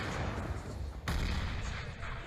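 Pistols fire during a professional Counter-Strike: Global Offensive match, with one sudden loud shot cutting through a dense, steady wash of in-game noise.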